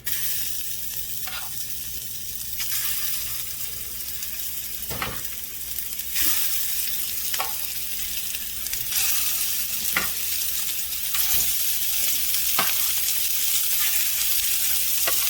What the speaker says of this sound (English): I'm gonna sear mine